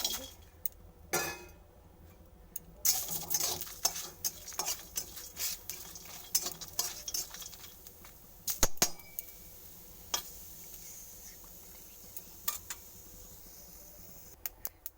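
Cardamom pods and nuts dry-roast in a hot kadai without oil, giving faint intermittent crackles and pops alongside scraping and clinking from stirring, with the sounds coming in scattered bursts.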